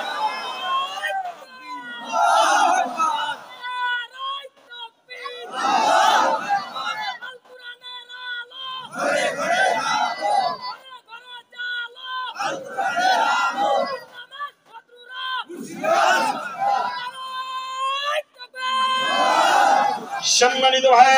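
A crowd at a religious gathering shouting slogans in loud unison, with bursts of massed voices about every three seconds that alternate with a leader's calls and brief quieter gaps.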